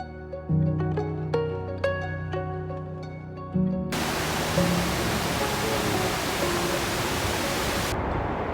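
A waterfall spilling onto a beach in Goa makes a steady, full rushing roar that starts abruptly after a few seconds of sustained ringing tones and holds evenly before cutting off near the end.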